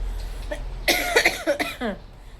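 A person with a cold coughs several times in quick succession, close and fairly loud, in a short harsh burst against a quiet background.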